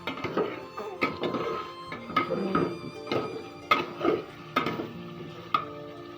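A spoon repeatedly scrapes and clanks through chicken and potato pieces in a metal pot, a steady series of close, moderately loud stirring strokes with a faint sizzle beneath.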